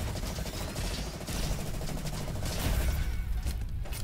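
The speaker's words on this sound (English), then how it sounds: "Tesla gun is nice." Rapid, sustained Tesla gun fire in the Roboquest shooter, a loud, dense crackling barrage that runs without a break for about four seconds.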